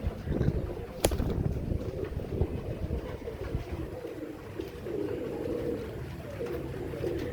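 Soft, low cooing of Teddy pigeons murmurs on and off against a breezy, rumbling outdoor background, with a sharp knock near the start.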